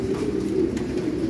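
Pigeons coo steadily in a breeding loft run on a bull-cock system during breeding season, a continuous low murmuring drone with no voices over it.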